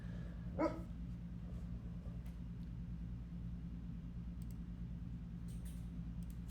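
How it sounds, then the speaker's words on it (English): A dog gives a single short bark near the start, fairly faint over a steady low hum that continues throughout. "why do you keep woofing and being crazy?"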